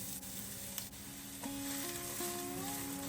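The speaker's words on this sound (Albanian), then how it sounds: "në një tigan do të hedhim pak vaj dhe do të skuqim një qep mesatare" A finely chopped medium onion frying in a little oil in a pan. A soft, continuous sizzle sits low and even, with faint music behind it.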